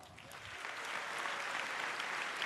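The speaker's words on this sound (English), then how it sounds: "Let's give them a round of applause." Applause from the audience at the GTC 2018 technology keynote. The wash of clapping is fairly distant and swells slightly, then holds steady, with no voices above it.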